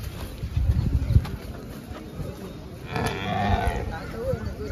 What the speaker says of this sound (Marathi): हे बघा म्हैस बघा तुम्ही.